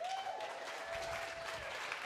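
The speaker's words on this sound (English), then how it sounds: "let's hear a round of applause for Aaron for putting this thing together" An audience at a business masterclass applauds steadily for about two seconds, a dense even wash of many hands clapping, moderately loud, with a faint sustained tone running beneath it.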